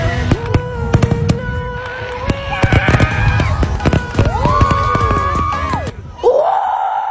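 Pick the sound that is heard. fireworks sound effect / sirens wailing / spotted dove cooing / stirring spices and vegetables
fireworks sound effect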